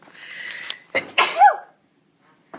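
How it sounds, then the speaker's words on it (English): A single close, sharp sneeze with a short breathy wind-up before it, then quiet. "Oh, I'm going to sneeze."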